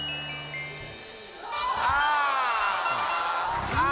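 A studio audience on the French game show Attention à la marche applauds and cheers a winning contestant. Crowd noise swells midway and stays loud, mixed with show music and raised voices.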